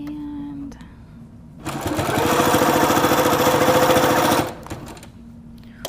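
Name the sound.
Little Rebel sewing machine stitching satin blanket binding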